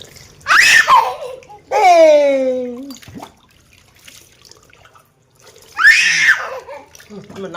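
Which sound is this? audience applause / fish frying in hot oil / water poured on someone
water poured on someone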